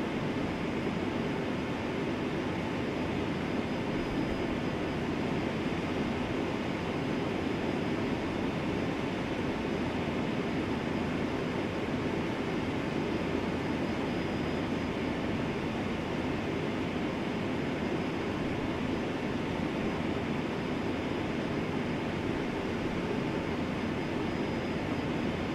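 Steady jet engine hum of a Quality Wings Boeing 757-200 idling before takeoff in a flight simulator, a continuous broad rumble and whine holding at an even level for the whole stretch with no talk.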